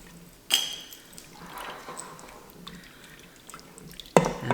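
Sherry vinegar poured into a pot of French onion soup gives a brief liquid splash and trickle, close, between a few sharper clinks and knocks.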